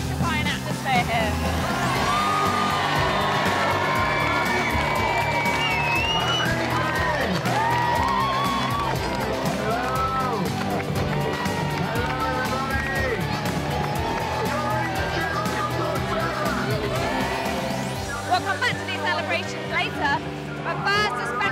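Lively crowd at an outdoor Torch Relay event cheers and whoops continuously, a loud, busy roar of many voices with music or announcements mixed in throughout.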